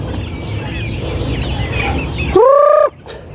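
Chickens and chicks are kept in a poultry yard. Soft chirping and clucking run in the background, then a louder rising fowl call cuts in close by for about half a second before the sound drops away.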